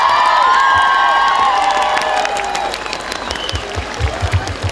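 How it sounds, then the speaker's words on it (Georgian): An audience at a Christmas concert in Samtredia bursts into loud, sustained applause with some cheering, which fades into thinner scattered claps and murmuring voices. "კიდევ უფრო მეტი აპლოდისმენტები მოგდა"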